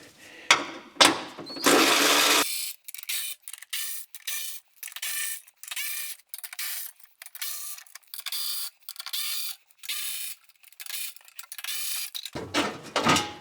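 A handheld power tool works bolts off a metal plate on a Nissan Skyline, sounding in repeated short whirring bursts separated by brief pauses, close and fairly loud with no talking.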